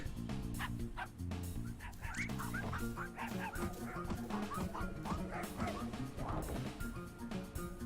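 Rue Dog, a red-nosed corgi in the video game Finding Paradise, yips, barks and whimpers in short bursts over continuous tonal game music, with no talking.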